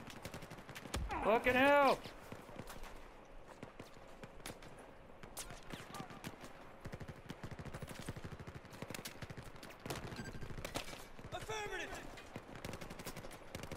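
Gunfire in the video game Battlefield 4, with steady machine-gun rattle and scattered shots running throughout at moderate level, under shouting voices and game sounds.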